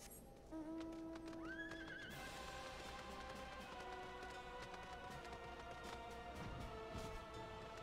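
A fire horse whinnies loudly near the start in Final Fantasy XIV, followed by steady clip-clopping hooves and a busy background of game sounds and music.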